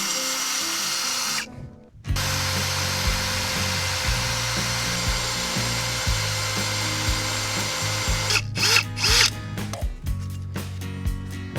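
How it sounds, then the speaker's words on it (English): A power drill bores holes through metal during deck construction, its steady whine running continuously for most of the clip with a brief break near the start, then choppier bursts toward the end. "drilling holes through stuff"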